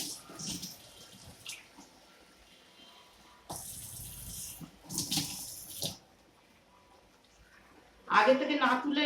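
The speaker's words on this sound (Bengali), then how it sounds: "এবার আমি এর মধ্যে অ্যাড করে দেবো সুন্দর করে জল" Water is poured into a pan of hilsa fish and cauliflower curry, giving a couple of bursts of splashing and gushing between pauses, with a person talking around them.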